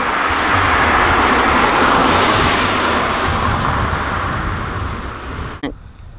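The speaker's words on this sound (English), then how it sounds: "it's such a high volume of commuter traffic, the excessive noise is intolerable." Heavy commuter traffic on Duthie Ave makes a loud, continuous roar of passing vehicles, swelling and easing slightly before a sudden dip near the end.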